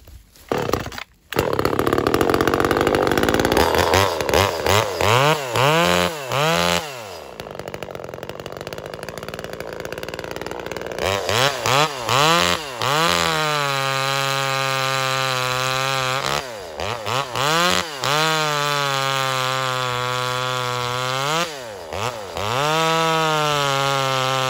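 A Dual 2500 (Model 3600) top handle chainsaw, its carburetor intake modified, runs loud and close, repeatedly revving up high and dropping back toward idle.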